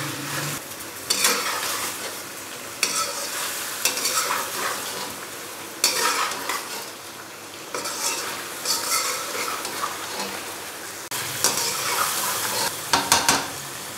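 Ginger garlic paste stirred and fried in a pan, a steady sizzle under repeated scraping and clinking of a utensil against the pan, in rhythmic bursts, close up, with no talking.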